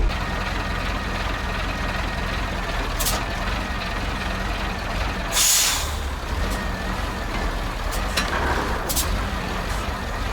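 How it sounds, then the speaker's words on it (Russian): Air brakes on a KAZ 4540 truck release with a sharp, loud hiss midway, while a low idling engine rumbles throughout and a few shorter pneumatic bursts come before and after. "Самое главное, что у нас машина растормозилась."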